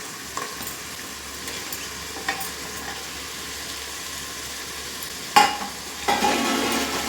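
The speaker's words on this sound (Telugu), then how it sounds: "ఇప్పుడు మన దగ్గర ఇవి కట్ చేసుకున్న వెజిటేబుల్స్ ఫస్ట్ వేస్తాం." Cut vegetables tossed into a pot for jackfruit biryani, a soft sizzle of frying with scattered stirring clinks, then a sharp clatter and louder hiss near the end, no talk.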